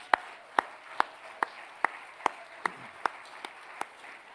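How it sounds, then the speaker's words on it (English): Slow, evenly spaced single claps, about ten in a row, at a convention gathering; sharp isolated hand claps with steady rhythm against a quiet room, rather than a full crowd ovation. "Please give them all a great round of applause."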